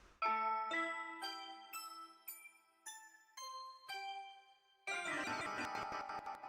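A descending sequence of clear synthesized bell tones, each chime ringing briefly, ending in a dense cluster of many bells struck together.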